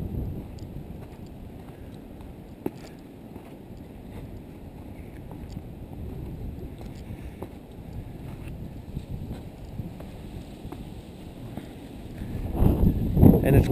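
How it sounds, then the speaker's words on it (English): Wind blowing outdoors on a blustery late-March day at a rocky boulder field, a steady low rumble of gusts buffeting the microphone, swelling louder near the end. "And it's quite a windy day here in late March."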